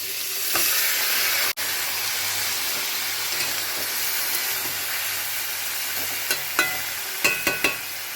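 Spinach and vegetables with green chilli sizzle steadily in a hot frying pan, a continuous hiss with a few sharp spits and crackles near the end, up close and without talk.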